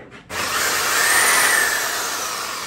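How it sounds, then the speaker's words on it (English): A sawzall bites into wood inside a Mustang S550 for a rear seat delete, a loud, continuous buzzing cut that starts abruptly and holds steady up close. "you're gonna have to find like a sawzall or something to cut out the wood."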